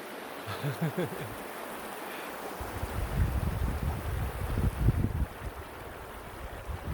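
The Conejos River in Colorado flows steadily through autumn, a broad continuous rush of water nearby, turbulence swelling louder midway, with no talk over it.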